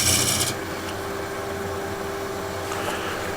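A wood-turning scraper shapes the handle of a turned wooden tray on a lathe, giving a steady close rasping scrape over the lathe hum, harsher for the first half second and then settling into an even, continuous grind.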